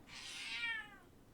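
A pet cat named Fifi gives a single clear, drawn-out meow, close and alone, rising and then sliding down in pitch over about a second.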